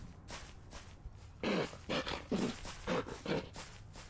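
A dog in the Deadly Premonition Director's Cut game gives a series of loud, rough barks or snorting grunts, about eight in an irregular rhythm, close and clear.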